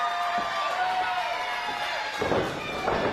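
A wrestling crowd cheers for Sean Black at an indoor show, a steady roar of voices with a few thuds, swelling louder toward the end.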